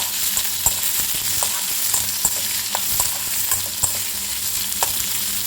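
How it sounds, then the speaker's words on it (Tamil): Chopped onions sautéing in a pan for pudina chutney give a steady loud sizzle, with regular scrapes and taps of a spatula stirring through them, close and continuous, and no voices. "வெங்காயத்தையும் போட்டுடலாம். நல்லா வதக்கிடலாம்."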